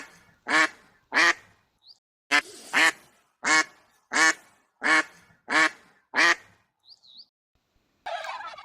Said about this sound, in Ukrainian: Качка крякає кря-кря.